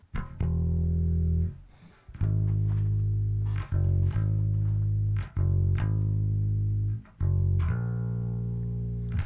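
Bass guitar playing a clean part in a basic repeated pattern: five sustained low notes, each ringing out for about a second and a half before a short break.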